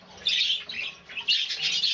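A pet bird, called a budgie by its keeper, chirps and tweets in several short close bursts with brief pauses between them, heard alone.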